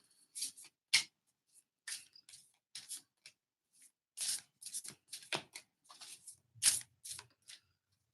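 Oracle cards being shuffled in a series of quick, papery riffles and slides, close up, with short pauses between bursts and no talking.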